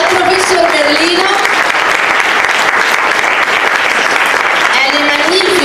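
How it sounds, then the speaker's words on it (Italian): Loud, sustained clapping fills the hall as an audience at a literary evening applauds the author and guests, with voices rising over the applause near the start and the end. "vi chiediamo di fare un applauso a Melania Mazzucco"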